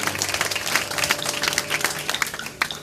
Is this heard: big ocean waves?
no